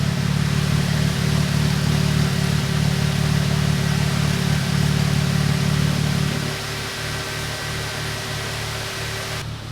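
A supercharged Mercedes SLK320 engine runs with a muffler fitted to its exhaust, a loud steady low drone that drops to a quieter, thinner hum partway through.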